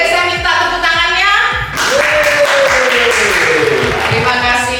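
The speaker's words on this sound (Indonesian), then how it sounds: "Sebelum mulai, boleh saya minta tepuk tangannya?" An audience applauds a speaker at an MC school session in Surabaya. A loud, steady wash of clapping breaks out about a third of the way in and continues to the end, with a voice talking over it.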